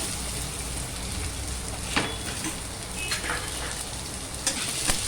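Onions frying in a pan with cumin seeds and bay leaf for an egg curry make an even, close sizzle, broken by a few light scrapes or clicks.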